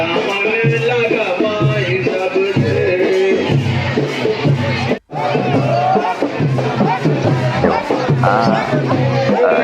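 Crowd at a Sidi dhamal performance, loud singing voices and chanting with rhythmic drumming and a dense hubbub of people, cutting out briefly midway before resuming.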